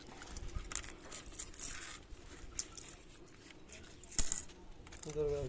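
Coins from a broken clay piggy bank clinking and rattling, several faint metallic taps and one sharper cluster of clinks, quiet overall with a brief voice at the end.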